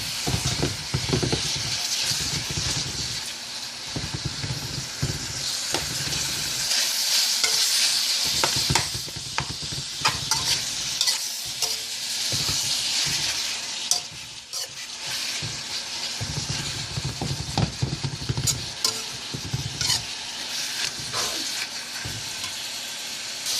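Ground beef breaking apart and frying in a hot pan, a steady sizzle and hiss broken by repeated scraping strokes of a spoon as the meat is stirred and separated, close and fairly quiet, with no talking.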